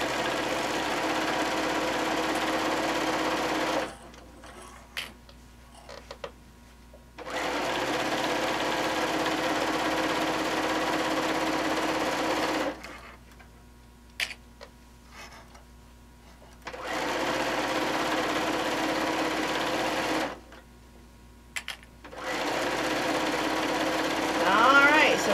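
A sewing machine with a walking foot stitches through blanket layers in three long, steady runs of rapid mechanical whirring, separated by quiet pauses. Faint clicks fall within the pauses.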